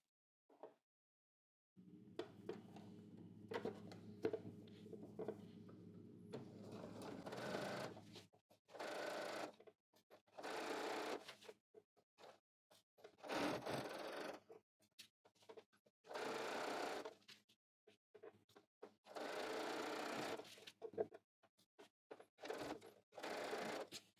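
A sewing machine stitches a pant hem in short, close bursts of buzzing, with one longer steady run at the start followed by several stop-and-start stretches separated by silence.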